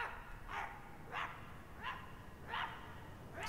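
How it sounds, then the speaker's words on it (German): A dog in My Friendly Neighborhood barks in single, evenly spaced yaps about every two-thirds of a second, five in all, faint and somewhat distant against quiet background. "Ist der Hund hier oder was?"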